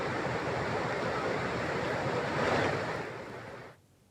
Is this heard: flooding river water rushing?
yes